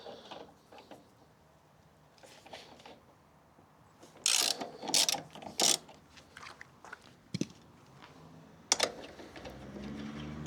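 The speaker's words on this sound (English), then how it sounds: "Now we need to unscrew this bolt, but just this one, and slightly lift our tank up." A bolt is loosened on a Honda CB125F motorcycle to lift the fuel tank, giving several close, sharp metallic ratcheting clicks in short bursts over a quiet background.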